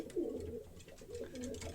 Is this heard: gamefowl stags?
no